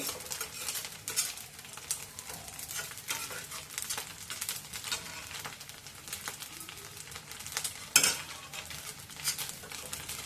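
Wheat-grain sheera roasting in a pan, with continuous close sizzling and crackling and repeated scraping and stirring of utensils against the pan.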